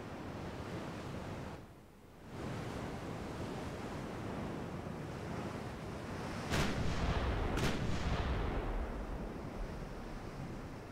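Naval gunfire from warships in the game Ultimate Admiral Dreadnoughts, two sharp booming shots a second apart over a steady roar of wind and surf.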